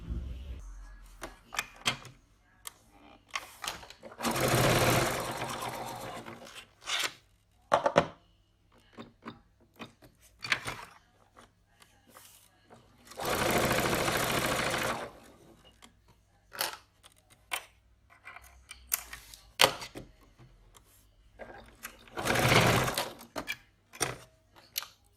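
A sewing machine stitches with a very short stitch length in three separate steady runs, each a few seconds long, separated by quieter stretches of fabric handling and small clicks.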